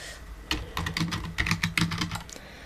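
Rapid typing on a computer keyboard while entering text in Canva, a close, crisp burst of clicking keystrokes in quick irregular runs over about two seconds, heard alone.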